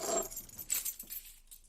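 A bunch of keys, with a wallet, recorder and face mask, jangles in a short close metallic rattle with a couple of bursts that fade over under two seconds.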